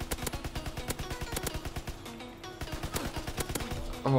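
Rapid bursts of grease gun fire in Call of Duty WW2, a World War II shooter, crackling in quick repeated volleys with a short pause midway, loud and close, with no talking over it.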